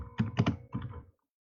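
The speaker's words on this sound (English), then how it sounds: "as I am typing on the screen" Typing on a computer keyboard, a quick burst of several soft clicks and thunks in close succession, near and fairly quiet, then silence.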